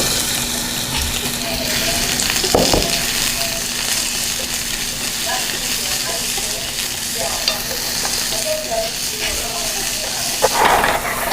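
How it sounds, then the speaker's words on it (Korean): Zucchini frying in hot oil in a frying pan for a Korean wolgwachae dish, a steady close sizzle and hiss with occasional stirring scrapes and clicks, no talking. "기름을 두르고 뜨거워진 다음에 호박을 넣고"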